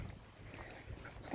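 Dogs on a countryside walk along the Heart of England Way, giving faint brief whimpers and yips amid outdoor background noise and footsteps.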